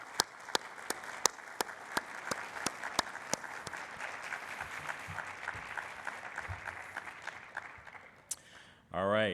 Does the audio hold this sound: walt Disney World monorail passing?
no